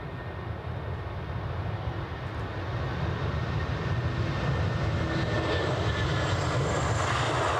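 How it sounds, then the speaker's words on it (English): KLM Embraer 195 E2 jet arriving at Edinburgh from Amsterdam, a loud engine roar that builds after a few seconds and holds steady, with a high whine rising toward the end and no talking. "Next arrival, KLM inbound from Amsterdam, an Embraer 195 E2."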